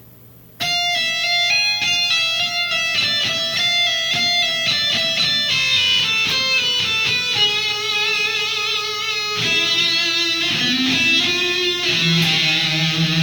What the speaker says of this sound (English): Okay, so the first phrase slowly sounds like this.